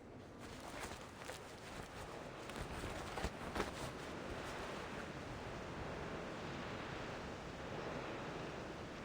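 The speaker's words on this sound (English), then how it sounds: "What with this wind, eh? Where's it coming from?" Steady wind rushes through a scene in the video game Reverse 1999, a broad continuous roar with a few brief gusty swells early on, holding even and fairly soft to the end.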